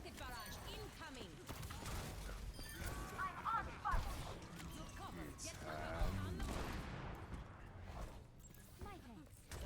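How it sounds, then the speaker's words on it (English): Rocket barrage in Overwatch 2: a dense flurry of overlapping blasts and crackling impacts, mid-distance and fairly loud, running throughout under busy game noise and occasional voices. "Rocket barrage incoming."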